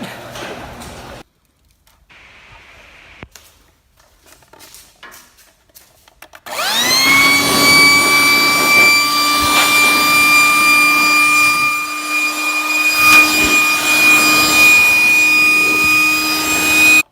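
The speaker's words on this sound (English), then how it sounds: "This thing right here is a quick pump for a portable air mattress, but it works out great to blow out all the debris" Portable air mattress quick pump switched on after a few quiet seconds of faint handling, then a loud, close, steady whine with a high tonal hum as it blows debris out of a car engine bay.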